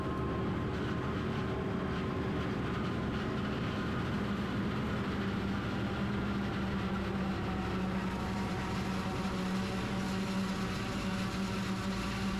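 A forage chopper roars steadily nearby while chopping silage in a field, a dense continuous mechanical drone with a low hum and no pauses, no voices heard.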